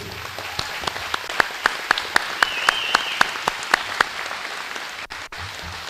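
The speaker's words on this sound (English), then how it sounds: "all these kids need a big round of applause for everything that they do." Audience applause at a high school all-sports banquet in Kellyville: a few loud, sharp individual claps ring out at a steady rhythm over a soft bed of wider clapping, then trail off near the end.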